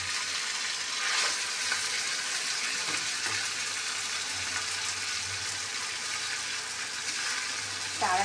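Kasuri masala chicken frying in its own released fat in a pan without added oil, a steady moderate sizzle with occasional stirring scrapes, no talk.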